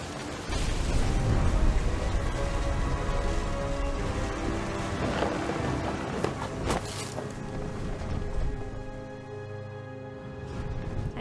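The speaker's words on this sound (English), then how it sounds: "The thunder sounded much too close and full of angry power." Deep rolling thunder rumbles in the video game What Remains of Edith Finch, a heavy low boom with crackling bursts that swells and slowly fades, accompanied by wind-like ambient noise.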